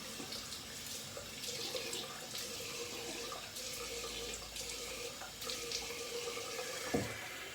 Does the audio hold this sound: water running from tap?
yes